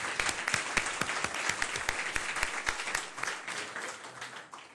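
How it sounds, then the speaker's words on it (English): A crowd claps loudly in a legislature chamber, the dense applause slowly tapering off over several seconds. "please applaud."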